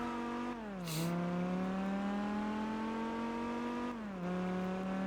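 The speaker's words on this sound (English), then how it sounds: "that's more like a V10 Viper engine, that" A V10 Viper engine in Gran Turismo 4 (Spec II mod) hums at steady high revs, dropping in pitch twice as gears change, then climbing smoothly again. The engine note is loud and sustained, with a short whoosh early on.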